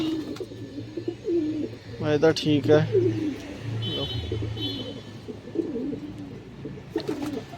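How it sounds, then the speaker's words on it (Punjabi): Pigeons cooing near a rooftop loft with umbrellas and netting, their low soft coos repeating in bursts close by while someone talks over them. "ਲੋ ਬਈ ਮਿੱਤਰੋ ਆ ਗਏ ਕਬੂਤਰ ਸਾਰੇ ਬਾਹਰ"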